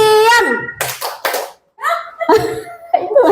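Teachers at a school training session clap in a call-and-response clap game, with short bursts of hand claps broken by brief pauses, mixed with voices and laughter.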